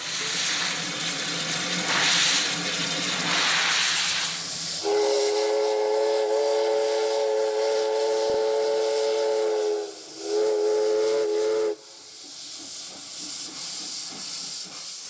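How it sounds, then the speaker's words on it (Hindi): A steam locomotive on an Ecuador railway sends out a loud burst of hissing steam. Then a long, sustained whistle blows twice, the second blast shorter, and steady hiss and rumble carry on afterward. "जब भाप इंजन पूरी ताकत के साथ चलता है तो कई हॉर्स पावर का शोर ऐसा लगता है मानो कोई ज्वालामुखी फट रहा हो"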